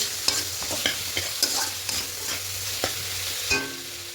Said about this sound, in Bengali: এবার খুব ভালো করে মশলাগুলো দিয়ে আলুর সঙ্গে কষিয়ে নেব